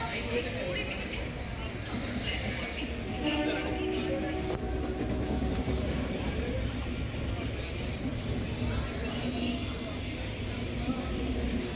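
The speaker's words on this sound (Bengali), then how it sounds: "একদম রাইট টাইমে ট্রেন ছেড়ে দিল শালিমার স্টেশন থেকে 8টা 35 মিনিটে" Shalimar–Puri Superfast Express pulling out of Shalimar station, a steady close rumble of rolling coaches and rail noise running throughout with brief higher squeals, a background murmur of voices underneath.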